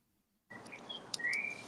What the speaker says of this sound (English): I hear the birds chirping